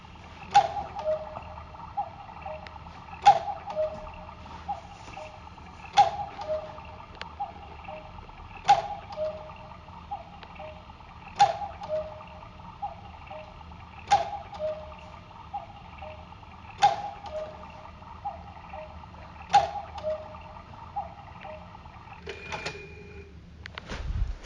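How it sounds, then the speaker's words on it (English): A cuckoo clock ticking steadily indoors, crisp clicks at a slow, even beat, each ringing briefly, clear and alone with no talk. "Here's Norman the annoying cuckoo clock."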